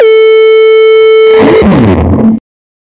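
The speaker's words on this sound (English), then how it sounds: "here's how our sequence is going to sound with some distortion." A distorted synthesizer tone from a Molten Voltage G-Quencer sequence holds a buzzy, harmonic-rich note, then breaks into a gritty stepped sequence before cutting off abruptly.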